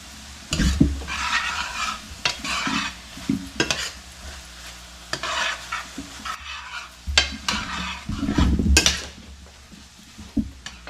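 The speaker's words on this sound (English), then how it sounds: "you're going to add your softened cream cheese to the skillet. And you're going to let that melt all the way through" Softened cream cheese melts in a hot skillet for crawfish bread while a spoon stirs and scrapes the pan, making soft sizzling and several clinking scrapes up close.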